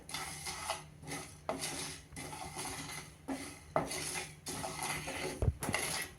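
Dry spices for rasam powder, among them cumin, black pepper and fenugreek seeds, are roasted without oil over a low flame and stirred in a pan, giving repeated close scraping and rattling clatters of utensil against metal.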